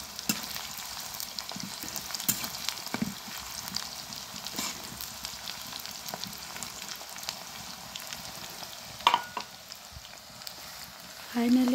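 Onions fry in a pan with a continuous sizzle and crackle, broken by occasional scraping stirs and a few clinks, fairly close with no talk.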